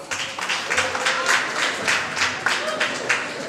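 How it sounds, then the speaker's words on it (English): Audience applause at a fashion show event, a steady wash of clapping with louder bursts, fairly close, and a murmur of crowd voices beneath. "give a round of applause to yourselves"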